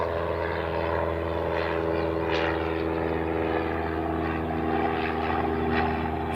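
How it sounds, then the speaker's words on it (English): A FedEx Boeing 777 taxiing out toward the reef runway at Honolulu airport, a steady distant engine drone with a constant low hum and faint whine, no voices over it. "right now we do have a FedEx 777 heading out to the reef runway"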